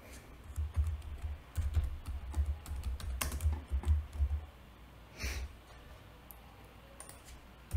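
Rapid keystrokes on a computer keyboard while entering a passenger name into a web form field, a busy run of close clicks that tapers off near the end, with no voices.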